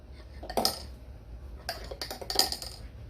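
A metal spoon clinks twice against dishware as a spoonful of Torani or Monin vanilla syrup is added, two short bright chimes separated by a quiet pause.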